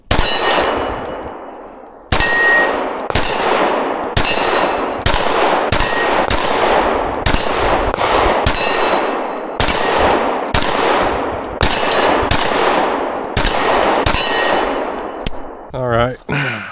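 Repeated gunshots from a PSA Micro Dagger C-1 pistol fired at a target about 20 yards away, loud sharp cracks spaced roughly one to two seconds apart across a steady string, ringing tails between shots, no talking.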